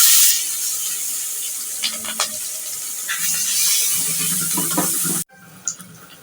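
Sliced onions hit hot oil in a wok, producing a steady hissing sizzle with a few utensil clicks that cuts off abruptly near the end, followed by quieter background.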